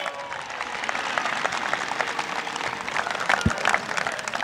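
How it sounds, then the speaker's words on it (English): Crowd applauding for the McNary High School band at a school dedication event, a dense, steady clatter of many hands clapping throughout, fairly close and loud. "Let's give a big round of applause to our McNary band."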